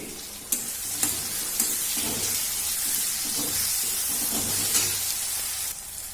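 Chopped tomato hitting fried onions in a hot pan for egg chicken tarka, with an ongoing steady sizzle and rhythmic spatula scrapes and stirs at close range; no talking.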